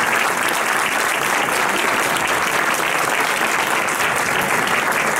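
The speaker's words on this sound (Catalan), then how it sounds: "un fort aplaudiment a la Sandra Pons i a la Berta La Torre" Audience giving a sustained round of applause for two traditional Ball dels Llancers dancers at a festival honours ceremony in Lafe, dense and even clapping lasting throughout, no speech.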